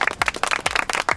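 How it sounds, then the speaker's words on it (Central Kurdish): A small group claps for Kak Yusuf on a village trip, with quick, uneven, close handclaps that come in a short burst lasting about a second and no talk. "یەک چەپڵە بۆ کاکە یوسف"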